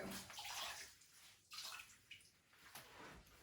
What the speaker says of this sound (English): first things first is to rinse it in a bucket of warm water